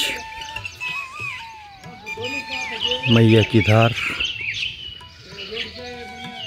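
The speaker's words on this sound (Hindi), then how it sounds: "पक्षियों की चहचहाने की आवाज़" Birds chirp and whistle in bright, rising and falling calls beside the Narmada river, with a burst of rapid trills midway, while someone talks over them.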